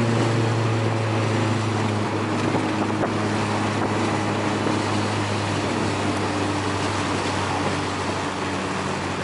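A Volkswagen MK4 GTI engine drones steadily while driving, a low continuous hum with strong harmonics under wind and road noise, loud and close throughout.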